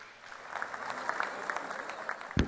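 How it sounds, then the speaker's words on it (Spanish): A small crowd claps steadily for a couple of seconds, moderately distant, ending with a sharp thump, at the National Chamamé Festival. "El aplauso para él. ¡El aplauso!"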